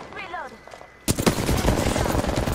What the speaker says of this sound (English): Somebody's shooting at me, bro.